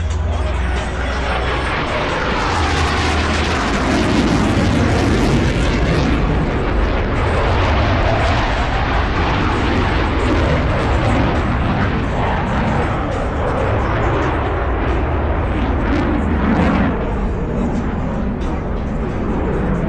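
Blue Angels jet aircraft crossing over show center at the Arctic Thunder air show, a loud, sustained broadband roar that swells and holds for the whole stretch without letting up.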